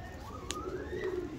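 A pigeon, a female bird kept by a pigeon fancier, gives soft low cooing over a steady outdoor background, with a brief sharper call near the middle and no talk.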